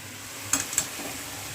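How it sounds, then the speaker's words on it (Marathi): Ivy gourd (tondli) being stirred with spices in a pan, two brief scraping stir strokes close up over a faint sizzle. "तोंडलीची भाजी पण एक मिक्स करून घेऊया"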